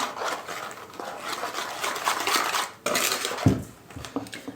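Salt, vanilla sugar and baking powder being mixed into dough in a bowl, a close, continuous scraping and rubbing with a few clinks of utensil against the dish, no voices.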